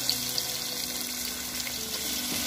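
Dragon fruit pieces fry in desi ghee in a kadai, giving a steady, even sizzle with soft bubbling and faint watery crackle that holds close and constant throughout, with no voices.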